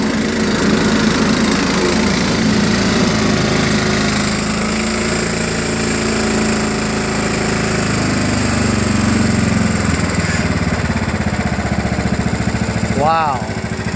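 A John Deere LA105 lawn tractor engine idles smoothly up close, a steady loud drone throughout, with a brief sweeping tone near the end.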